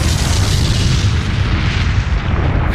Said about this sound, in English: Excuse me, I have to defuse this bomb.